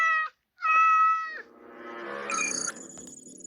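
A cat meows twice in clear, loud, high-pitched cries, then moves into a longer, wavering, drawn-out yowl.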